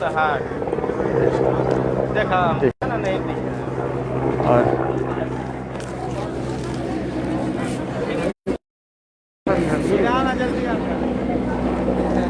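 An army helicopter flies near a building while showering flowers, its steady rotor drone loud and continuous under a voice talking, with a couple of brief cuts.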